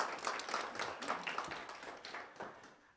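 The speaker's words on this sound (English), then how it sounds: "a round of applause" A seminar audience gives a round of applause, a soft, moderately dense patter of hand claps from a smallish group, steady then thinning out toward the end.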